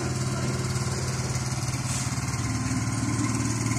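A fishing boat engine chugs steadily with a low, rhythmic putter, running continuously at close range with no voices, as the boat returns from sea to a river pier.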